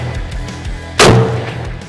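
A single sharp gunshot fired at shooting targets cracks out loud and close, with a brief ringing decay after a quiet stretch.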